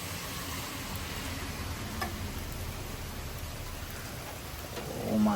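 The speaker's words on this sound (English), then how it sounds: "Oh, that rain actually picked up." Downpour from a severe Frisco, Texas thunderstorm with gusty wind builds into a steady hiss, with faint ticking drops scattered through it and a short voice rising near the end.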